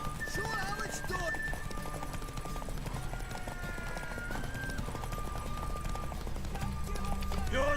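In a video game, a horse's hooves clip-clop in a quick galloping rhythm, with a whinnying neigh rising over the hoofbeats, all under faint game music and speech.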